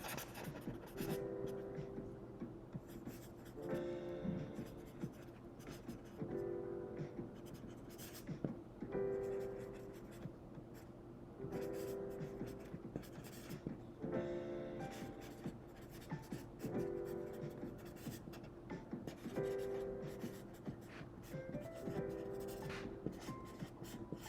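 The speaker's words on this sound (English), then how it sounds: "All right, I'll write you a personal note." A personal note is handwritten with a pen on paper, steady close scratching strokes in repeated bursts with brief pauses, quiet and continuous throughout.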